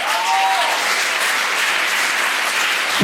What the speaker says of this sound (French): merci d'applaudir très fort